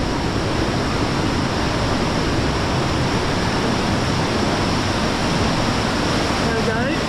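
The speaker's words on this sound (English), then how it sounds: "That is the Cauldron waterfall." The Devil's Cauldron waterfall at Lydford Gorge roars close by in a loud, unbroken wash of rushing water, with a brief faint sound near the end.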